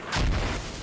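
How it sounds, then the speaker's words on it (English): A single heavy mortar round firing or landing in the military shooter Squad, a deep booming thud that rolls out and decays over under a second. "Wait, there's more than one mortar going on."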